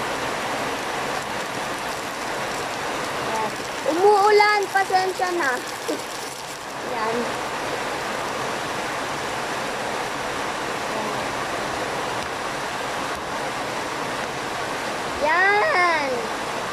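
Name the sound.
rain falling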